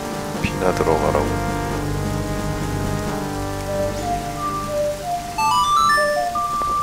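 Steady rain falls in Zelda: Majora's Mask after the Song of Storms, a continuous patter under a rising sequence of bright chiming notes, with a brief voice early on.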